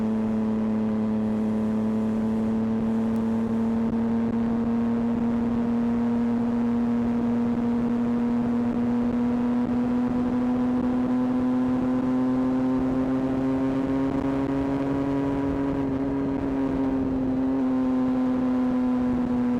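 Triumph Street Triple Series 1 naked motorcycle riding along with a steady, loud engine drone, its pitch holding even and rising slightly near the end, with continuous wind and road rush and no talking.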